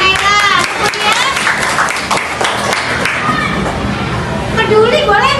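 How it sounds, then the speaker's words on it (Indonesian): Elementary classroom applause for a student's correct answer: dense, steady clapping from many children, close and loud, with lively chatter and young voices throughout. "tepuk tangan untuk Naila."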